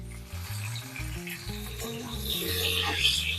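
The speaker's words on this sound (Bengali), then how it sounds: "আলু দিয়ে দিলাম তেলের মধ্যে। আলুগুলো লাল লাল করে ভেজে নেব।" Potatoes fry in hot oil left over from frying papaya, giving a steady sizzle with stirring scrapes beneath a tonal musical backdrop.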